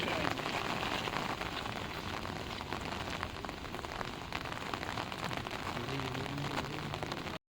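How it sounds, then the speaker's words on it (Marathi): Heavy monsoon rain pours down in the Konkan countryside near Dapoli, a dense, loud, unbroken roar of drops striking surfaces, with brief muffled voices underneath. "पाऊस बघ कसला दिसतोय"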